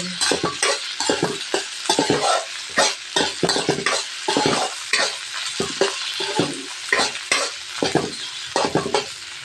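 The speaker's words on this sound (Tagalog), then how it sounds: "Ilagay na din po natin ang pork giniling." Ground pork sautéing with mustard greens in a pan, loud close sizzling broken by repeated rhythmic bursts of stirring and spatula scrapes throughout.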